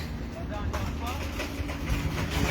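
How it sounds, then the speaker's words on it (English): A steady low engine rumble drones nearby as a boat motors past on the Seine in Paris, with a bed of broad background noise. "Got a boat coming along here."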